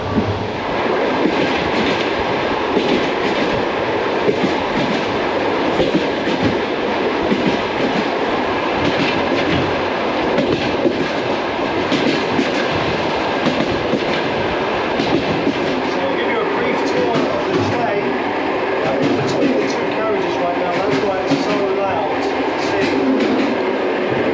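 A Kyrgyz post-Soviet sleeper train rolls steadily along the rails, with a dense, continuous rumble and clatter from inside the carriage lasting throughout, loud and close.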